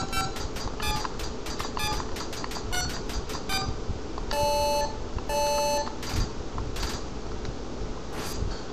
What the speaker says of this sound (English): this is a game about dialing phone numbers to people that are dead